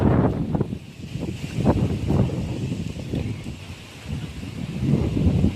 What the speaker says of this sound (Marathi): बेकार वारा सुटला मित्रांनो